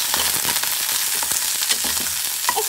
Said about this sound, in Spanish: Ya cuando está calientito el aceite, vamos a poner la cebolla.